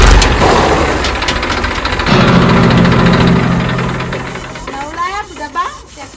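Tractor engine idling nearby, a loud steady mechanical rumble with knocking vibration that steps up partway through, then fades as other sounds take over near the end.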